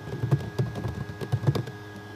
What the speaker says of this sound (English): So I'm going to go ahead and type in something.